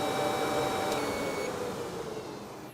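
Steady broadband whir of electric radiator cooling fans moving 3600 CFM on a Bel Air, running close by, a constant airy drone with faint tonal whine that eases slightly toward the end.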